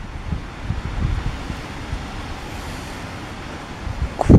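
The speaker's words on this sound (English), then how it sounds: "It's quite windy out." Strong wind gusts outdoors during a severe thunderstorm rumble as low, steady buffeting noise against the microphone, continuous throughout with a louder gust at the end and no voices.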